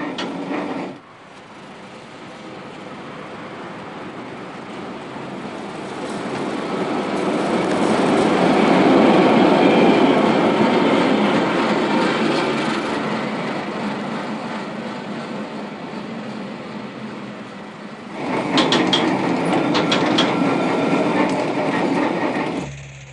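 A 1950 Nijmegen tram motor car with a secondhand Berkman controller from the Rotterdam RET runs on line 3, its motor rumble swelling and fading as it travels, with clattering bursts near the start and end.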